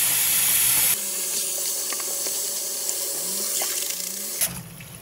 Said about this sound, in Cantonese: 我喺水度沖佢養佢就算嘅啦。